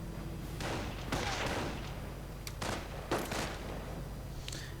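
Gunfire and anti-tank gun rounds in a World War II strategy video game battle, a few sharp bursts and booms popping out over a steady low rumble of background battle noise.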